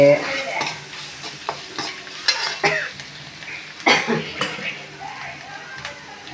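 Grated carrot is sautéed in a pan for a spiced cowpea masala, with soft sizzling under repeated stirring scrapes and spoon knocks against the pan, close and steady, a voice occasionally present.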